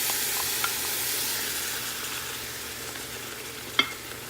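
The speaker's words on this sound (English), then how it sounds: "And we will add in 1 can of those diced tomatoes and green chilies." Beef chili cooking with a soft, steady sizzle throughout and a few faint clinks, one sharper knock near the end as canned diced tomatoes and green chilies go in; no voices.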